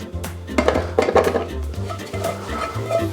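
Cashew nuts tipped into a blender jar while making a plant-based mushroom pâté, giving a run of hard clinks and rattles against the jar, close and fairly loud, with no talk.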